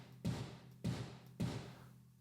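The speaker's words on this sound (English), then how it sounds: "So let's listen to it on the kick." Three evenly spaced kick drum hits, each a deep thump with a long airy room tail blended from a far room sample in the Modern Massive library by GGD, played alone with no talk.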